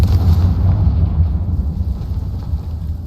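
A Confringo fire spell explodes in the video game Hogwarts Legacy, a loud, deep, rumbling blast with a heavy low boom that slowly fades over a few seconds, with no talking.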